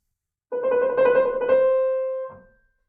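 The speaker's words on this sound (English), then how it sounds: "So a trill can sound like this." A quick instrumental trill, two neighbouring notes alternating rapidly for about two seconds, then a soft final touch as it fades.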